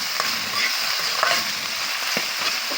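Garlic, ginger and onion sizzling and frying in a pan for biryani, a steady close crackle with occasional stirring scrapes and no talking.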